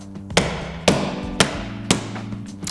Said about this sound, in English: Take your dead blow hammer.